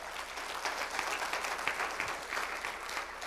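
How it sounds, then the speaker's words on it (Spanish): Church congregation applauding during a Spanish-language worship service, a dense steady wash of many hands clapping at moderate level throughout, with no voices. "denle un aplauso al Señor."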